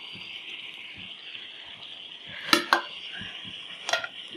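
Fried fish heads being stirred into taro greens in a pan, a Bengali kochu shak dish, with a low sizzle broken by a few sharp clinks of a utensil against the metal pan.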